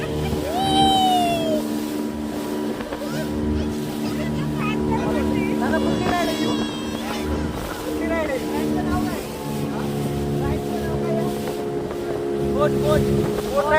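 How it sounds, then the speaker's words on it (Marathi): Motorboat ride on the sea, a steady droning engine hum under constant wind buffeting the microphone, with passengers talking and shouting over it throughout. "बोट राईड आमची चालू आहे मस्त आम्ही समुद्राच्या खूपच आलेलो आहे"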